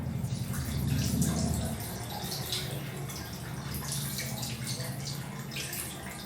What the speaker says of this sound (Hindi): अब 1 मिनट के लिए हमें फिर से ठंडा पानी डालना है दोनों घुटनों पर